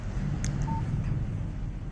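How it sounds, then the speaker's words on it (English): A short electronic phone alert for an incoming text message in Alan Wake, a brief tone riding over a low, rumbling background. "Text message from Barry."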